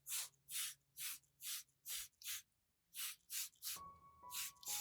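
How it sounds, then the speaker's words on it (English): A handheld spray bottle mists diluted rice flour solution over a plant's leaves: about ten distinct, loud, breathy spritzes in a steady rhythm, with a brief pause partway and a faint tone entering near the end. "I will use the diluted rice flour solution to lightly mist the entire plant from top to bottom of the leaves."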